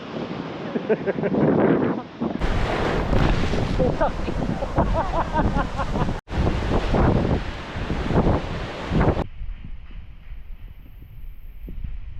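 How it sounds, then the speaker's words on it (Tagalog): Strong ocean waves at high tide roar onto Bulabog Beach in Boracay, Philippines, a loud, rushing surge with heavy wind buffeting the microphone, under close talking that fades as the surf quiets toward the end. "ngayon high tide and lakas ng alon"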